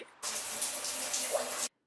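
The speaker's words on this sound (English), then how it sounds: "Just kidding, but I do take a shower." Water running from a home shower, a steady close hiss that starts abruptly, holds evenly for about a second and a half, then cuts off sharply into silence.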